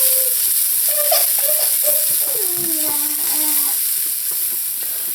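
Fresh garlic and ginger are stirred in a hot pan, a continuous bright sizzle with faint scraping of the spoon as the mix is moved around, close and steady throughout.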